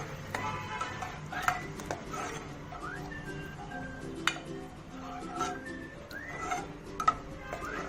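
Masala being roasted and stirred with a bowl of slightly sour yogurt in a pan for Kolhapuri pandhra rassa, with soft scraping and light clinks of the spoon recurring over a steady low background, a few sharper knocks standing out.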